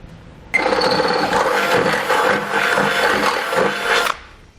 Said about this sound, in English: we're going to need to drill a 1/2-inch hole into our frame rail